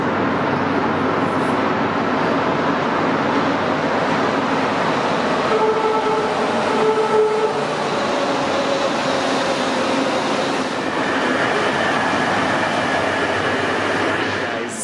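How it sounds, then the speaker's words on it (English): A Mexico City metro train rumbles steadily and loudly throughout, a continuous rolling roar with faint squealing tones from the wheels and no talk. "I have to catch a quick metro, which is just there."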